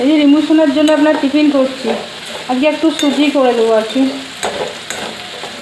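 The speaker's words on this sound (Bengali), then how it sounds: "গাজর আলুটা যে ভাজা হয়ে গেছে।" Chopped carrot and potato frying in a pan, a crackling sizzle running steadily beneath a voice that talks almost throughout.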